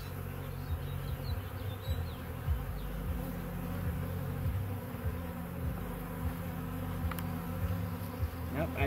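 Honey bees humming inside an open hive during a late-spring inspection, a steady, fairly close buzzing drone with faint handling knocks, no talk.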